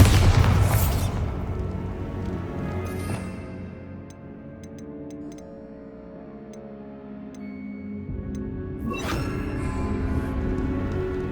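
A Bombarda blasting spell in Hogwarts Legacy bursts with a loud explosive boom, dies away into a low, ringing rumble with faint ticking, then a second blast hits near the end.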